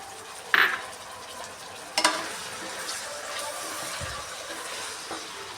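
Capsicum and peas stir-fried in a pan for vegetable fried rice: a steady, soft sizzle with a couple of sharp utensil clinks near the start.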